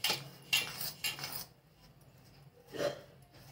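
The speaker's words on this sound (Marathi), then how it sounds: "चमच्यानेच हलवून घ्यायचं" A metal spoon scrapes and clinks in a bowl while stirring hot oil into murukku dough of roasted gram and rice flour, a few quick close scraping strokes at the start, then quiet, then one more scrape.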